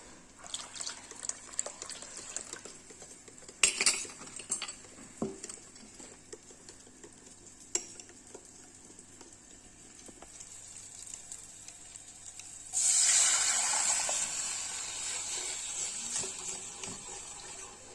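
Water from a tap runs into a besan mixture, first as quiet trickles with a few clinks, then as a louder steady pour in the closing seconds, close and with no speech.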